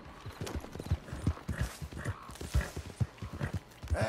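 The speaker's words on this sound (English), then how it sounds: "I fed that horse too." Horse hooves clip-clopping in Red Dead Redemption 2, a steady rhythmic walking gait of hollow thuds continuing close and clear throughout.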